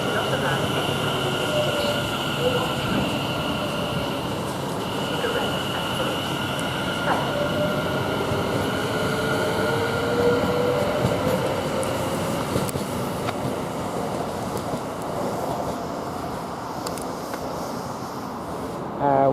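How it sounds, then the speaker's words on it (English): A train at Milton Keynes Central railway station gives a steady, loud rumble that fills the whole stretch, with faint metallic wheel tones over the low roar. "Be aware that fast trains come through this station regularly."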